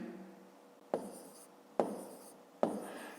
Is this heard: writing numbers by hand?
yes